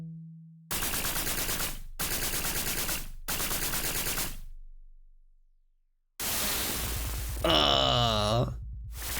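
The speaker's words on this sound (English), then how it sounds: "I shot my rifle at him, but it didn't work" Rifle fire in the PC-88 video game Target Wave: three loud bursts of harsh, noisy chiptune gunfire with sharp stops, a pause, then a longer burst with a warbling tone over it.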